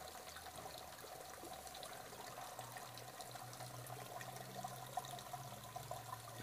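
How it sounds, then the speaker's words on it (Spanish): Water circulating through a homemade garden fountain carved from a log beside a fish pond, a faint steady trickle and splash with soft low hum underneath, no talking. "Entonces circula el agua,"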